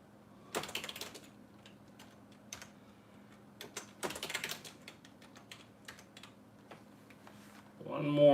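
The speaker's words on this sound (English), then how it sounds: "I'm typing it in as we do this" Sporadic keyboard typing in short bursts, nearby, with quiet gaps between clusters of key clicks and a faint hum underneath.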